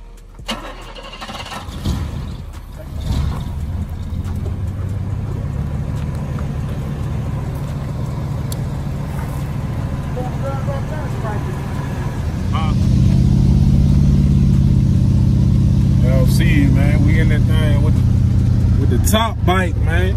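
Car engine of a Chevrolet Caprice Classic (1987 or 1974 model) driving with the top down, a steady loud rumble that swells as it accelerates, with people talking over it and wind noise throughout.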